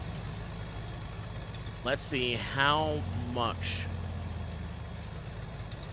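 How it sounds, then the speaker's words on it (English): A farm harvester's engine idles with a low, steady rumble heard in the background, and someone speaks briefly over it. "hopefully, our harvester stayed idling"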